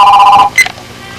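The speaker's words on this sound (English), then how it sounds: "Let me get the phone. Is that our phone?" A telephone rings once in a half-second tonal burst, fairly loud and close, then cuts off to near silence.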